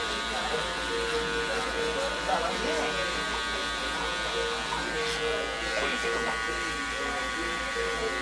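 Electric hair clippers buzz steadily while cutting a fade haircut, a close, continuous motor hum with slight changes as they move through the hair, with people talking over it.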